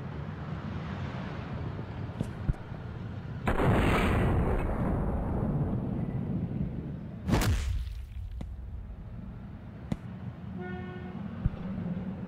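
A grenade is shot and bursts in the indie video game Delay, giving two sharp, loud blasts a few seconds apart with a lingering noisy rumble between them.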